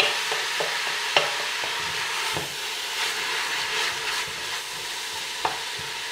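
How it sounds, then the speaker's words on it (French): Zucchini and carrot cook in a pan while being stirred, a soft continuous sizzle broken by occasional sharp knocks and scrapes of the utensil against the pan. "Donc évidemment, on remue régulièrement."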